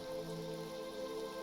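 Steady, dense rain pounds down throughout in the fantasy role-playing game Neverwinter Nights, a continuous near wash of drops with faint tonal ambience behind it and no voices.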